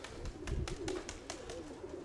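A pigeon coos softly in a low, throaty murmur, close by, with faint clicking in the background.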